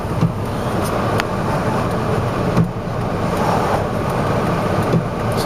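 A long line of road traffic, a steady close rumble of car engines and tyres with a few brief thumps, with no talking.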